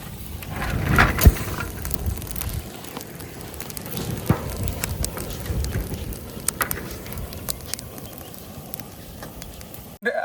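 Cashew nuts roast over an open fire, with a steady crackling roar broken by sharp, irregular pops and snaps as the shells burst.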